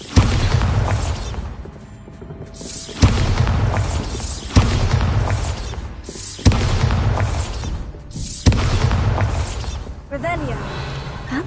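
Repeated Bombarda blasting spell explosions in Hogwarts Legacy, four or five heavy booming bursts at roughly two-second intervals, each a sharp loud impact decaying into rumble and debris, with a character's voice shouting between them.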